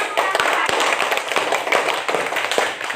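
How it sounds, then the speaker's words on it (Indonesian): A crowd claps steadily for a few seconds, dense and continuous applause with scattered sharper hand claps. "Kita kasih aplaus, kita kasih tepuk tangan."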